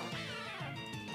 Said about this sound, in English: It's a cat meow.